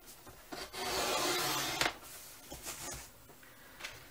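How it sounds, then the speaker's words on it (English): Scissors cut paper for a handmade vintage pocket folder journal, making close rasping, rubbing cuts in a few uneven strokes, with a longer sustained stroke early on and no talk. "So now I'm cutting out this one."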